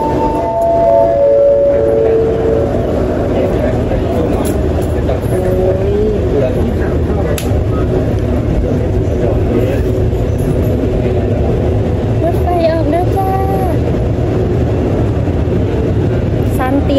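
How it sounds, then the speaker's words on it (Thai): A Thai passenger train rolls along after leaving the station, a loud continuous rumble of wheels and carriage noise heard from inside, with occasional faint squeals. "ตอนนี้รถไฟออกแล้ว"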